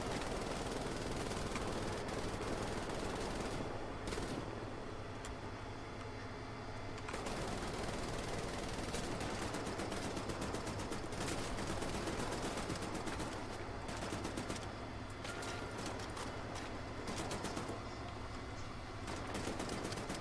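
Continuous heavy gunfire in the video game Wolfenstein: The New Order, dense and sustained like a turret or machine gun firing, loud and unbroken for about twenty seconds with no talking.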